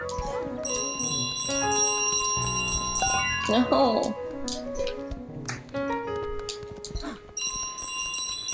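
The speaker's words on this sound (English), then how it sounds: "I just gotta get the bell to the water." Bell ringing repeatedly in Untitled Goose Game, bright metallic tones layered over game music and effects, with someone talking briefly over it.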